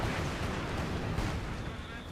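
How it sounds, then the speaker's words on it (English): Panzerwehr artillery barrage in Company of Heroes 2, a dense rumbling roll of shell explosions that blend into continuous low booms beneath a commentator's voice. "Panzerwehr barrage."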